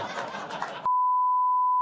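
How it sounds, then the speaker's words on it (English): A steady censor bleep tone, about one second long, cuts in abruptly right after a stretch of talk and covers a bleeped word, loud and constant before ending sharply. "I got to beep it"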